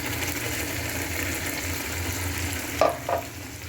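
Onions with coriander powder and ginger paste fry in a pan and are stirred for a home-cooked dinner. A steady, low sizzle continues throughout, and two sharper scrapes of the spoon come near the end.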